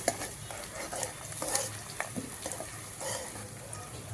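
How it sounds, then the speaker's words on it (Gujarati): Green chillies sautéing in oil for vaghareli khichdi, a close, continuous sizzle with intermittent stirring scrapes and crackles, heard on its own without talk. "લીલા મરચાંને આપણે થોડા જ થોડા જ આવી રીતે સાંતળવાના છે તેલમાં"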